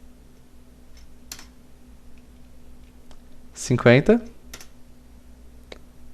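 A few sparse, faint keystroke clicks on a computer keyboard, spread across several seconds of quiet room tone, with a short spoken word in the middle.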